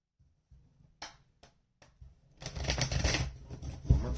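Tarot cards being shuffled up close: a few sparse taps and flicks, then a dense, rising riffle of card noise with no voices.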